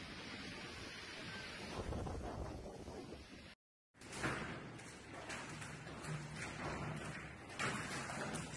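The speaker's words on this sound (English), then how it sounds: "A powerful storm hit Sicily, plunging part of the Italian island into chaos as torrential rains, strong winds and flash floods swept through" A powerful storm in Sicily brings torrential rain and strong winds: a dense, roaring wash of rain and gusting wind with low rumbling thumps, broken by a brief silent cut partway through.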